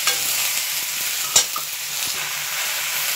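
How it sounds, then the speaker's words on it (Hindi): Okra (bhindi) fries in a pan with a steady close sizzle while it is stirred, giving light scraping taps and one sharper clink near the middle. No one speaks. "अब इसमें भिंडी डाल देते हैं, इनको अच्छे से फ्राई करते हैं"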